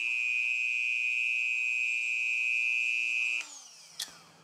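A Dremel rotary tool spins a length of 3D printer filament in its chuck, giving a steady high-pitched motor whine that winds down sharply near the end, followed by a brief click.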